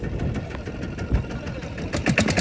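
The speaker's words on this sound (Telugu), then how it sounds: "అన్న మళ్ళా బోటు తిప్పాడు లోపలికి" A boat engine runs steadily at mid pitch, a continuous mechanical drone with a knocking, vibrating texture and a few sharper clatters near the end, heard close against a wavy sea shore.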